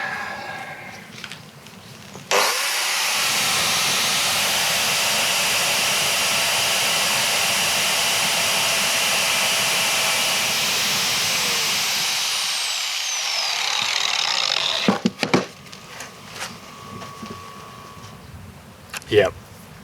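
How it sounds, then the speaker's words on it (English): An angle grinder cuts through a thick wire lug for an off-grid homestead build, a loud, steady high-pitched whine running without a break for about twelve seconds before cutting out, followed by a few brief clanks and knocks. "angle grinder makes things worse"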